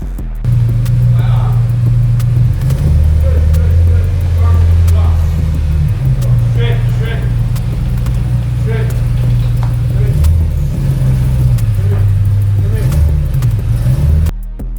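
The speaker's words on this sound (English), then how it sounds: "it's time to drive it on to the lift right there" A BMW M3 engine idles and rumbles steadily at close range, rising slightly as the car creeps forward onto a garage lift, with faint clanks in the background.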